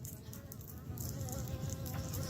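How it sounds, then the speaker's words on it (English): A dense, steady buzzing of many honeybees at a hive entrance close by, a continuous droning hum with scattered wingbeat flickers and no speech. "This is a strong box of bees."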